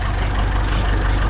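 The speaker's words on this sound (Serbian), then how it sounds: "aktivirali smo 558, to je Ganz nov traktor" A new IMT 558 tractor engine runs at a steady idle in cold weather, a continuous low, rumbling drone with a faint knocking texture that stays loud and even throughout, with no voices.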